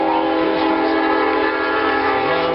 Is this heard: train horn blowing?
yes